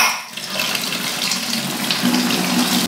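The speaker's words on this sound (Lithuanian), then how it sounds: "Per sistemą pravarom tą seną vandenį." Old water is flushed through a house's plumbing from an open tap, a loud steady gush and splash that starts almost at once and runs on without talk.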